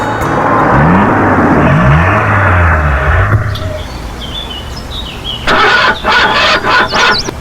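An old, battered vehicle's engine cranking and starting, a loud close churning rumble that falters and dies away, followed by bird calls and a few short sputtering bursts.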